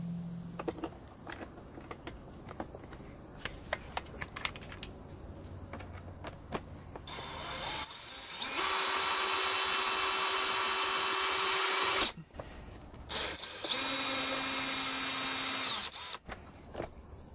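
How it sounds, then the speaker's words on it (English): A cordless drill drives stainless steel screws through PVC clamps into a wall during an air conditioning split system installation, with two long loud whirring runs after scattered handling clicks, close by and no talk. "I'm going to go ahead and screw on our stainless steel screws through our PVC clamps"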